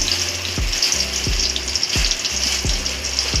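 Onions fry in plenty of oil for a village-style brinjal kuzhambu, a loud, dense crackling sizzle with several low scraping stirs at regular intervals.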